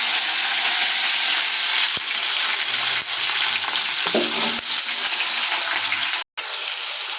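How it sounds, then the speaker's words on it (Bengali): Potatoes and cumin seeds fry in a hot pan with a steady, loud sizzle and bubbling throughout, with occasional stirring clinks and scrapes close by. "জিরেটা ফোড়ন দিয়ে দিচ্ছি। তো এখন আমি আলুটা দিয়ে দিচ্ছি। ফুটে যাচ্ছে"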